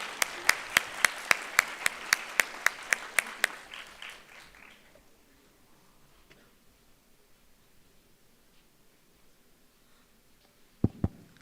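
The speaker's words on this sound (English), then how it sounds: "Let's give a round of applause for Dr. Bilal." Seminar audience gives a speaker a round of applause, about a dozen sharp distinct claps in steady rhythm for roughly four seconds, then quiet room tone, with one more loud knock near the end.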